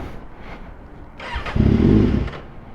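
A Kawasaki Ninja ZX6R motorcycle with a hot-start problem cranks briefly, then its engine catches and gets a short blip of revs before settling, loud and close with no talking.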